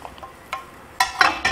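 Green and red bell peppers being stir-fried for chicken à la king, heard as a few short bursts of sizzle and stirring scrapes between quieter pauses, close and brief, with no talking.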